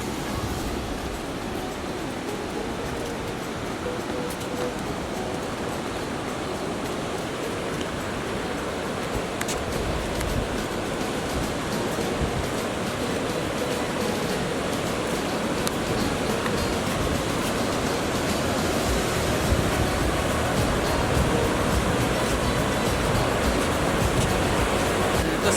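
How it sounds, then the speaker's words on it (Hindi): The Devdhara waterfall pours in a dense, unbroken roar of falling water, loud and steady from start to finish with no voices. "ये हरे झरना, यहाँ से पानी नीचे जाके"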